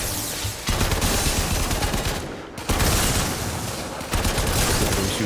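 Dense, rapid gunfire in a video game, loud sustained bursts of shots broken by short gaps, with no talking.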